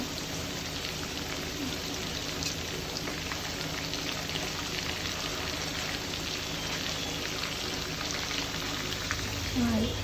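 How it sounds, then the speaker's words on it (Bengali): Large hilsa fish fry in hot oil with a steady, dense sizzle that holds evenly throughout, with no pauses. "আমি এগুলো ইলিশ মাছ ফ্রাই করতেছি।"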